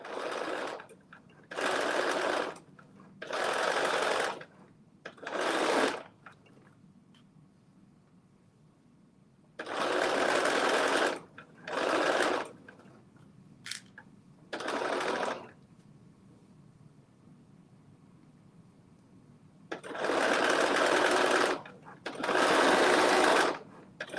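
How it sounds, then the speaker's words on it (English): A sewing machine runs in bursts of a second or two, with steady whirring stitching that stops and starts in a repeating pattern, fairly close and loud against quiet background hum. "Are you sewing anything"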